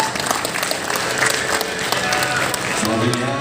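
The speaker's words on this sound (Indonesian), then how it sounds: "Hadirin berikan tepuk tangan yang meriah sekali lagi." An audience applauds at an inauguration ceremony for the Aceh Sepakat North Sumatra board. Steady, dense clapping from a sizable crowd fills the whole stretch, with a voice faintly underneath near the end.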